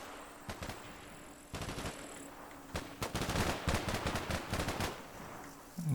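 Gunfire crackles through a firefight in the video game Combat Mission: bursts of machine-gun fire and scattered single shots, moderately distant, in irregular clusters with short gaps between volleys.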